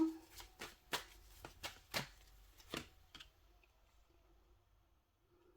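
Tarot cards being shuffled up close, a quick series of crisp riffling and slapping bursts for about three seconds, then quiet with faint low murmur.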